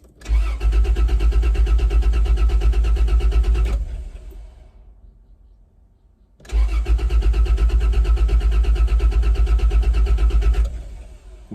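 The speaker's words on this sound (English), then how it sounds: "Well, it tries to start." Toyota 80 series Land Cruiser engine cranking on the starter and trying to catch, two loud sustained bursts of rapid rhythmic cranking separated by a few seconds of quiet, close to the vehicle.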